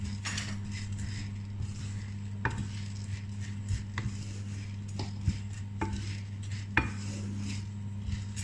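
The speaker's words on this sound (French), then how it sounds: "Pour l'instant, moi, je remue un peu mes graines." Seeds stirred in a bowl for a frozen yogurt cake make scattered light clinks and scrapes at irregular intervals over a constant low background hum, fairly quiet and close.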